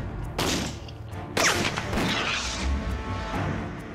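A gunshot fired into a catalyst chemical during an explosives test, two loud sharp blasts with booming decay and rumbling aftermath, no explosion following.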